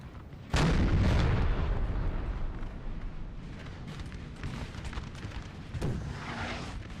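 Booming cannon fire from Napoleonic-era artillery in a Napoleon: Total War battle, one heavy blast opening a long rumbling roll, with further muffled reports and a later sharp boom, moderately loud and alone.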